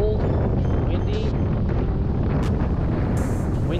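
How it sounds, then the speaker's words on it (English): Strong wind roars across the microphone on an open fishing boat in cold weather, a loud, constant buffeting rush with no letup through the whole stretch. "Wind is ripping."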